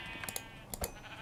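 A Minecraft sheep bleats in the video game, two or three short, nasal bleats in quick succession, fairly close and clear, with no talking over them.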